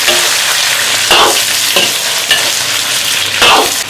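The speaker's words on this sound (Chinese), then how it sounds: "我好像警察下了，差不多了，下入肉" Pork pieces stir-fried in a wok for red-braised pork, a loud continuous sizzle with several sharp bursts of scraping and tossing from the spatula, no talking.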